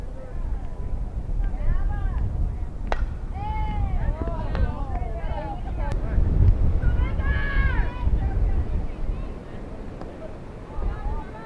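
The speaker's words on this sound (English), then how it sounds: "Another windy moment here." Gusty wind buffets the microphone at an outdoor high school softball game, a steady rumbling roar under announcer talk and distant voices.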